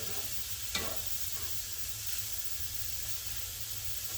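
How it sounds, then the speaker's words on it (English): Carrots and ginger sauté in a soup pot with a quiet, even sizzle and one sharp click near the start. "So I'm just going to let this saute for a little bit."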